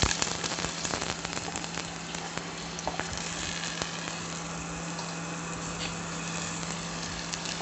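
Vegetables frying in hot mustard oil make a dense, continuous sizzle with fast crackling spatter, heard up close and steady from start to finish over a low constant hum.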